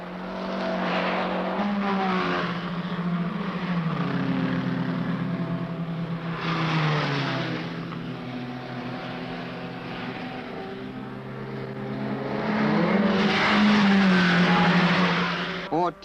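Racing cars, Ford Escorts, Porsches and GTs, roar past at speed on a circuit, their engine notes rising and falling in long sweeping waves, loud and continuous throughout.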